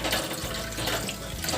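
Water pours steadily into a kadai of curd and besan batter for dahi kadhi, a brief close splashing gush with no talk.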